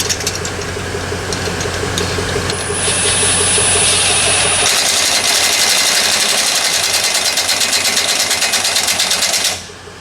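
A loud, close 6.0 engine in a Land Cruiser runs with a steady mechanical ticking rhythm, its note shifting partway through before cutting out just before the end.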